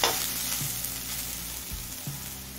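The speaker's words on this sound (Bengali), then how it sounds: "পেঁয়াজটা হালকা লাল করে ভেজে নিয়েছি।" Onions fry in a pan while susuni shaak is being cooked. A steady close sizzle runs throughout, with a few soft stirring knocks.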